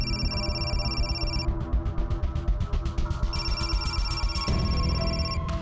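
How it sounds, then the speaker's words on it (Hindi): An electronic ringtone with a repeating pulsing pattern plays steadily over a layered musical backdrop, loud and close, with no talking. "प्रकाश सर का फोन है।"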